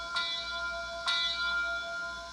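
A model train's bell rings with two evenly spaced clangs, bright and ringing over a soft background hum.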